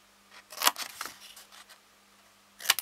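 Scissors snipping the corner off a thick paper compartment for happy mail. A cluster of crisp close cuts is followed by a pause and one more sharp snip, over a faint steady hum.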